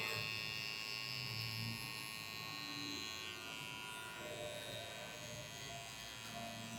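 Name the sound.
electric hair clipper cutting a low fade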